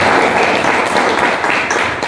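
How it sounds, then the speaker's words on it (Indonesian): An audience at a leadership talk claps for a couple of seconds, a dense, steady patter of many hands at moderate level with no talk over it. "Kasih aplaus untuk kita semuanya."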